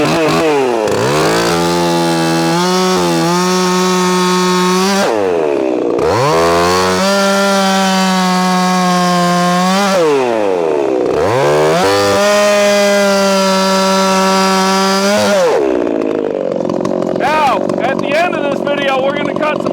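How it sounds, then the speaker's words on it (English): A Husqvarna 564XP 50cc chainsaw revs hard through wood in three long timed cuts, loud and close, each rising to a sustained roar then dropping to idle, with a brief pause between cuts. "We're going to cut some cookies and do some timed cuts with all three of these saws."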